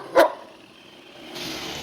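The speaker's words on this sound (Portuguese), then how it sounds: "Ele late só até eu mandar beijo pra ele." A German shepherd dog gives a single short, fairly loud bark near the start, followed by quiet room noise and a soft hiss.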